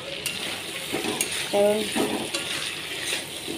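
Food being sautéed in a pan, a moderate sizzle under a few metallic utensil clinks and scrapes, with a brief spoken word over it.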